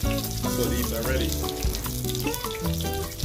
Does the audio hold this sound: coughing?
no